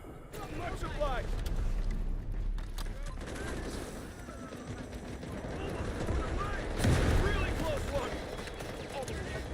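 Gunfire in the Wildgate video game: scattered sharp shots crack over a busy rumbling battle bed, with a heavier cluster of hits near the seven-second mark, while someone talks throughout.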